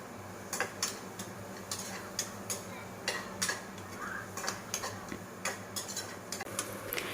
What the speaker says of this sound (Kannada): ಈಗ ಆನಿಯನ್ ಚೆನ್ನಾಗಿ ಫ್ರೈ ಆಗ್ತಾ ಇದೆ.